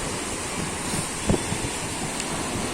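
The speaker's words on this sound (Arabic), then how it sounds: "وين البحر يا آية" Sea waves washing onto a beach on a cool day, a steady broadband surf wash with wind noise across the microphone and a brief louder splash near the middle, close and continuous with no talk.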